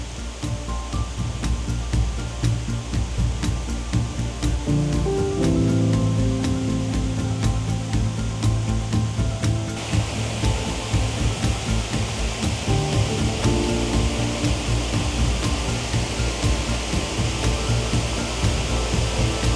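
Water falls in a river beside a bridge at Vierves-sur-Viroin, a loud continuous rushing roar that fills the scene steadily for nearly twenty seconds, with a brief brighter swell about halfway through.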